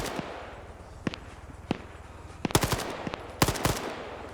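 Machine gun bursts and scattered shots trade back and forth in an Arma PvP firefight, sharp isolated cracks giving way to denser rapid clusters at mid distance over a low ambient rumble, with no voices.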